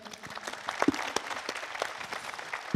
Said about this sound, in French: Allez, on peut les applaudir, s'il vous plaît.